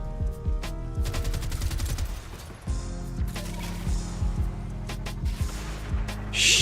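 Enemies shooting in the video game Warframe: scattered rapid gunshots and volleys at moderate volume over a droning musical background, ending in a louder burst.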